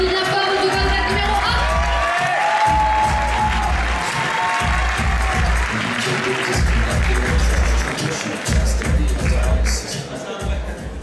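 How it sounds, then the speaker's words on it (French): A theatre audience at a pageant evening applauds and cheers a candidate, dense continuous clapping and shouts with crowd babble, loud and sustained, thinning slightly near the end. "on l'applaudit bien fort, notre candidate numéro"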